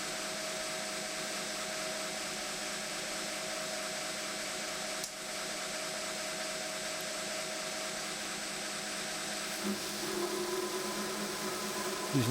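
A belt grinder fitted with a 36 grit belt grinds a steel knife tang under firm pressure. It makes a steady, loud, broadband whirring hiss with a brief dip partway through and no talk.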